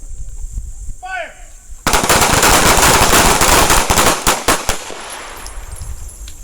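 Rapid pistol fire at an outdoor shooting range during a combat pistol workshop: a loud, dense burst of overlapping shots from several shooters, then a few scattered final shots tapering off, with a short whistle-like sound just before.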